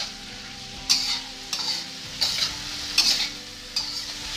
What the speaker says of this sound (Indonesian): Besarkan api, kemudian aduk cepat.